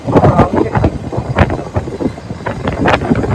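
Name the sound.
wind blowing into the microphone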